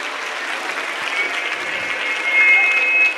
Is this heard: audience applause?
yes